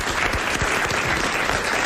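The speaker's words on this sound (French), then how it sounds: "vous allez applaudir" Studio audience applauding a game show winner on a French television programme, steady dense clapping filling the whole moment, loud and continuous with no talk over it.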